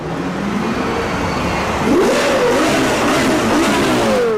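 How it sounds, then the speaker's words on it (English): A high-pitched Lexus LFA V10 engine revs up sharply, holds a loud wailing note, then dips and climbs again, heard close and alone. "the Lexus LFA is by far the best-sounding car to come out of Japan"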